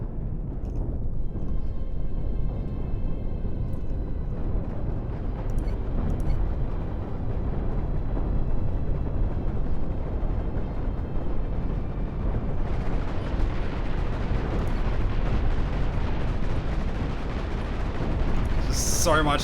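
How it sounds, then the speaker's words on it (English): Heavy cannon fire rumbles continuously through a Cosmoteer PvP space battle, a loud, dense roar of overlapping blasts with sharper bursts near the end, and players talk over it. "So much cannon fire."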